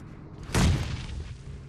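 A grenade explodes in a PUBG Mobile match, a single loud boom that decays into a rumbling tail over continuing game noise.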